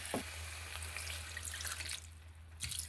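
Water runs into a cooking pot while rice pelau is being made, a steady faint splashing and trickle that carries on throughout with a few small drips near the end.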